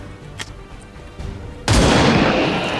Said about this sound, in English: Shoot them too.